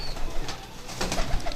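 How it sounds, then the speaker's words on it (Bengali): Teddy pigeons perched overhead coo softly in short, throaty bursts, close by and repeating over a faint background. "আর ওপরে তোমার সব পায়রা বসে আছে দেখতে পাচ্ছ"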